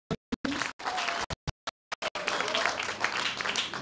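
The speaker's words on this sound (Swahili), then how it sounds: "Tumpigie makofi" Audience at an Africa summit in Nairobi, Kenya bursts into applause in choppy bursts that settle into sustained, fairly loud clapping and crowd noise.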